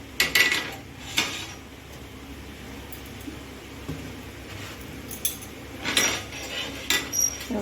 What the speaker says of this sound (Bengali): এবারে আমি তাওয়াটা বসিয়ে নেব।